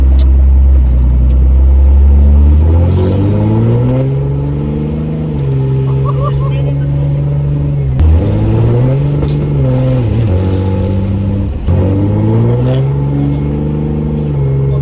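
Diesel pickup truck with a 700 hp Cummins engine doing a burnout, revving hard in repeated surges, pitch climbing and dropping several times, loud and close, with tire squeal hiss at the peaks.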